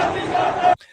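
A large crowd at an Iranian street protest chants together in a loud, unified roar that cuts off abruptly, leaving a faint murmur.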